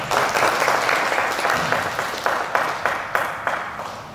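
An audience at a cultural oration event in Karawang, Indonesia, applauds steadily throughout, a dense wash of clapping with a few sharper individual claps standing out.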